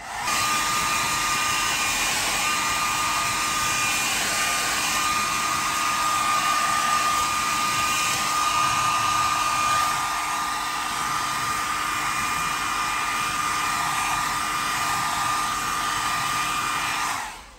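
A hair dryer blows steadily and loudly with a constant high-pitched whine, running continuously without pause, drying a leather steering wheel.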